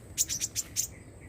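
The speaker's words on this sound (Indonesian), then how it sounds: "banyak burung." Small birds give a quick run of five high, bright chirps close by against a quiet background, with a faint softer call trailing after.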